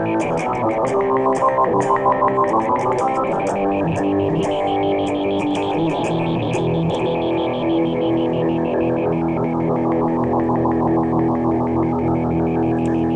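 A buzzy MFOS Echo Rockit synthesizer tone modulated by a fast square-wave LFO plus an external sine wave, with rapid, choppy modulation stepping the pitch and texture, sustained continuously with evolving filter sweeps.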